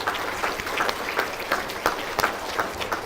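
Audience applause at an award gala honoring an Oneida community lacrosse figure, a steady crowd clapping with a few sharper individual claps standing out.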